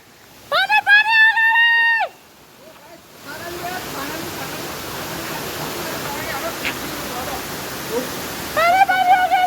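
A waterfall pours in a steady broadband rush through most of the stretch, while bursts of a sung or harmonic voice sound loudly at the start and again near the end.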